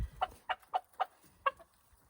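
Chickens cluck in a homestead chicken coop, giving a run of five short, evenly spaced clucks at close range, with no talk over them.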